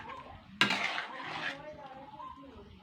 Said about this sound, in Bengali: তো এবার আমি সেগুলো কিন্তু ভালো করে আরও 2-3-4 মিনিট কষিয়ে নেবো